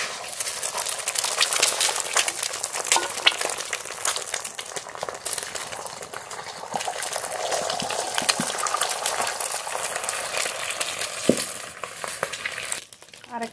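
Eggs fry in mustard oil in a kadai, producing a dense, even crackling sizzle that carries on steadily with small pops and a brief clatter near the end.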